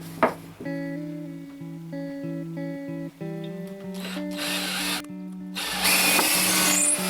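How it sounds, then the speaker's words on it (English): A power drill bores a screw hole in the wooden base of a bird table, its motor whining in steady pitched bursts that rise and speed up into a louder, harsher grinding as the bit bites into the wood, close and alone. "first I mark the centre of the base to drill a hole for a screw."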